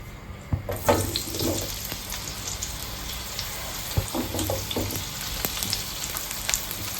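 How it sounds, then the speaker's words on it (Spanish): Whole garlic cloves and pepper fry in oil in a pan for a seafood fideuá, a close, steady sizzle with scattered crackles and a few utensil clicks. "Sofreímos para que largue bien el sabor y se doren un poquito los ajos."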